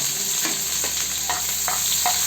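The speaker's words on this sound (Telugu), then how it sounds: "ఆయిల్ హీట్ అయిన తర్వాత ఉల్లిపాయ వేసుకోవాలి రెండు పచ్చిమిరపకాయ ముక్కలు" Onion and green chili pieces frying in hot oil for a goat blood curry, a steady close sizzle with a few scraping stir strokes over about two seconds, no voices.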